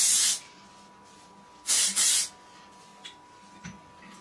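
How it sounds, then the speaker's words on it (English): Hairspray mists onto styled hair from an aerosol can in three short bursts, one at the start and then two close together, each a loud, crisp hiss with quiet pauses and faint handling noises between them. "it's good to spray it with some sort of hairspray"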